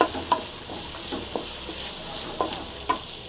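Bajji chillies fry in a pan with a steady close sizzle, and a spoon stirring gives occasional soft scrapes and taps, with no talking.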